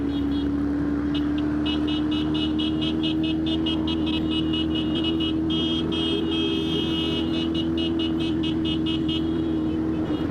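Many motorcycles at a crowded street gathering, with engines droning steadily and loud throughout while rapid high horn-like toots pulse repeatedly over the rumble.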